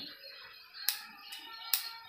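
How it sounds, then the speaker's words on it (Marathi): Whole spices dry roasting in a kadhai for kharda mutton, giving soft scratchy rustles with a few sharp crackling pops spaced apart, faint and close with no talking. "जरा तडतड आवाज येईपर्यंत आपण भाजून घेणार आहे"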